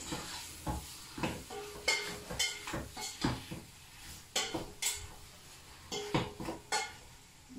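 Meat being stirred in a pot for couscous, with soft scraping and clinking of a spoon against the pot in an irregular rhythm, a faint sizzle underneath, quiet and close.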